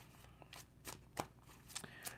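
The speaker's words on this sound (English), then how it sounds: "Give it a quick shuffle." Tarot cards shuffled by hand during a reading, a few quick riffling bursts and soft slaps spaced across a couple of seconds, close and fairly quiet with no talking.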